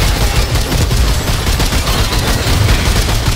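Dense, continuous gunfire from a Remnant II co-op boss fight: loud, steady rapid shots blurring into a constant roar with no pauses.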